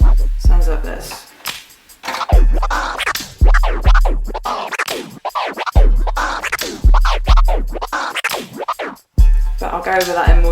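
DJ turntable tear scratch done with a two-click flare, loud choppy scratch strokes in quick repeating patterns, with brief gaps between phrases.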